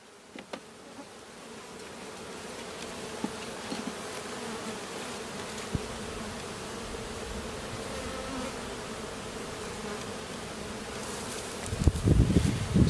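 Honey bees buzz steadily throughout a hive inspection, a dense, close hum that slowly swells in loudness, with a few brief knocks and rustles near the end.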